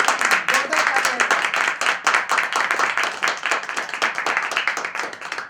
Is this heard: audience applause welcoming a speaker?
yes